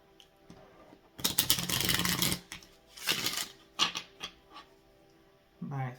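Tarot cards being shuffled hard by hand, giving several loud riffling bursts of rapid crisp clicks separated by brief pauses, close and dry, with a short voice near the end.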